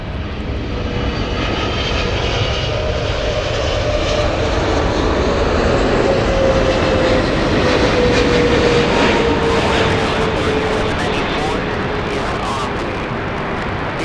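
A large jet airliner roaring past at LAX airport, a loud sustained broadband engine rumble with a slowly falling whine, close and unbroken throughout.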